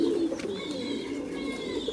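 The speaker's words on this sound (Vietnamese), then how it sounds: "Đây là chim bồ câu nhập đó. Đây là dòng Titan Thái siêu thịt nha anh em." Imported Thai Titan meat pigeons coo in a low, continuous rolling murmur, close by and steady, with faint higher chirps above it and no one speaking.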